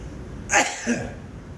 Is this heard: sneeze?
yes